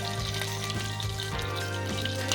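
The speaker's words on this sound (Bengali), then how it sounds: "আমি আলুগুলো দিয়ে এগুলো হালকা লাল করে ভাজা।" Potatoes sizzle in hot oil in a home kitchen pan, a faint, steady frying hiss with a few soft stirring clicks and no talking.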